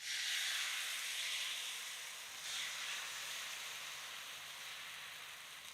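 Semolina and wheat flour dosa batter sizzles on a smoking hot griddle over a lowered flame, a steady broadband hiss that holds fairly evenly throughout at a moderate, close level with no talk.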